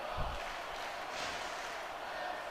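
Game crowd in WWE SmackDown vs Raw 2006 keeps up a steady, dense roar of chanting voices throughout a wrestling match, with a brief low thump near the start.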